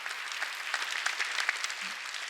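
Brief applause from a Korean church congregation during a Sunday worship service, a dense patter of many hands clapping at moderate volume for a couple of seconds, heard alone.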